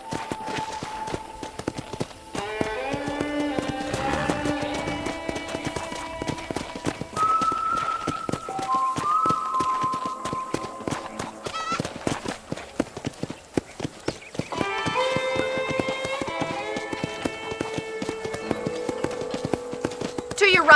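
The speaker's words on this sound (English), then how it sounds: "let's see if you can still ride a horse." Hooves clip-clop in a steady rhythm as a horse is ridden in Red Dead Redemption, running throughout under clear voices and game music.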